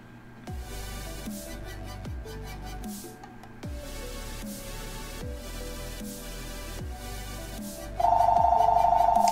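A telephone rings in the Rollercoaster Tycoon 3 game, a repeating electronic bell ringtone in regular bursts over a looping game music background, then a louder sustained tone near the end.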